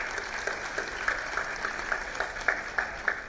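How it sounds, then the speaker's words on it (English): An audience at a leadership conference claps in a steady, fairly soft applause with a few sharper claps standing out, no voices over it. "A big round of applause."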